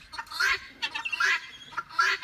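Chickens and guinea fowl squawk and cackle in repeated agitated bursts, three loud harsh calls close by with quieter clucks between, no talking.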